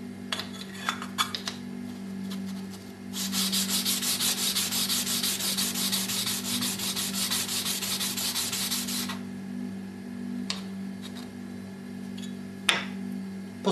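Steady rasping rub of polishing the long edge of a steel card scraper, running continuously for several seconds after a few light scrapes, with a couple of faint taps afterward.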